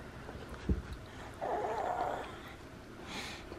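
A puppy whimpers indoors at Christmastime, with a short yip and a whiny cry heard close amid rustling and soft handling noises, with a faint voice nearby.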